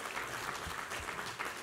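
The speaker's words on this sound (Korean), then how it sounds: "우리 하나님께 감사와 영광의 박수 올려드리겠습니다." A church congregation applauding during a Korean sermon, a dense, even patter of many hands clapping continuously for a couple of seconds.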